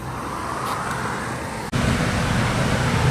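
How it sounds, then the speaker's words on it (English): Busy, regular road traffic on historic Market Street in Frederick: a steady, dense roar of passing cars with no speech, briefly dipping for an instant before resuming just as loud. "regular traffic. People going to work and people leaving their homes and stuff like that here in historic Market Street"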